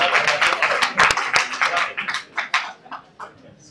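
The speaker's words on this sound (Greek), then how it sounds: "Ένα χειροκρότημα δικό μου." An audience gives a round of applause at a lecture hall event, with dense clapping that thins out into scattered claps toward the end.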